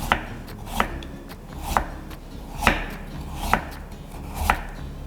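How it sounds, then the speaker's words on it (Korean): Knife finely julienning food on a cutting board, six distinct chopping knocks at a steady unhurried pace, close and clear over a quiet background with no talk. "그리고 곱게 채를 썰어줘요"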